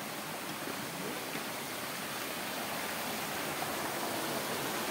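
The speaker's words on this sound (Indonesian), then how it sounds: "kita udah ketemu sungai kecil." A small, clear mountain stream near a hiking trail in Bogor flows with a steady, even rush of water, close by and continuous, with no voices.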